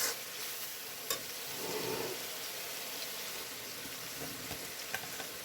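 Spices frying in oil in a pan for a tengra fish curry, giving a steady close sizzle with soft stirring scrapes and a few brief clinks, and no talking.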